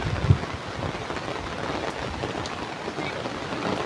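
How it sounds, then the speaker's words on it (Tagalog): Heavy rain pouring during Typhoon Kristine in the Philippines, a dense, steady hiss and patter close by with a faint low rumble, no talk. "lakas po ng ulan"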